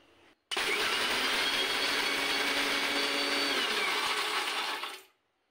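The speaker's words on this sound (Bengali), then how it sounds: "একটু একটু করে বন্ধ করতে হবে আর একটু একটু চালাতে হবে" Mixer grinder grinding nuts for thandai masala, starting abruptly with a loud steady whir that runs about four and a half seconds alone, then winds down to silence.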